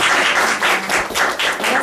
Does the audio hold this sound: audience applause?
yes